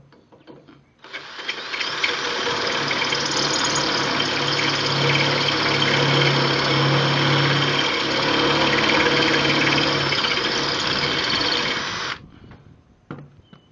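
A power drill runs continuously for about eleven seconds, boring a hole for a 3/8 bolt in a steel utility trailer frame, loud and close with a steady whine, starting and stopping abruptly; no talking.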